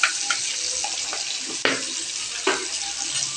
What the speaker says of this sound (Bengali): তো তেলের মধ্যে দেওয়ার পর দিয়ে দেবো 2-4টে কালো জিরা এইভাবে ছড়িয়ে।